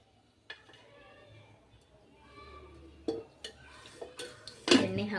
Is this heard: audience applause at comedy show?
no